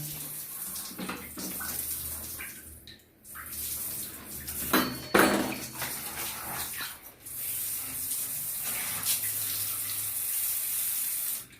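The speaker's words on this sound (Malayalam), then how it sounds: "ഇങ്ങനത്തെ പൈപ്പ് കൊണ്ട് വെള്ളം പാർന്നു." Water gushes and splashes steadily from a hose pipe while cleaning a bathroom and toilet, briefly cutting off and restarting, with occasional clinks of metal nearby.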